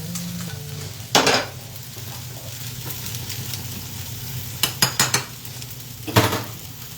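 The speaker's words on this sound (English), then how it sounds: "Looking to get those greens down to the bottom of the pan." Greens fry in a pan with a steady sizzle, broken by sharp metallic clanks and scrapes of a utensil against the pan, clustered near the middle and end.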